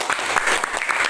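A room full of people claps for a student group, a short burst of dense, even applause at close range.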